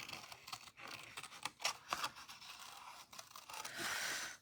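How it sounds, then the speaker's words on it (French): Scissors snip through a piece of paper card in quick, close, crisp cuts with small scraping and crunching sounds, quiet and without talk. "J'aurais pu prendre une perforatrice aussi, probablement, mais là, avec les ciseaux, c'est tigidou."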